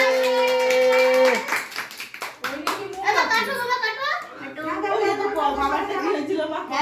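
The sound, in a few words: children and family clapping hands at a birthday cake cutting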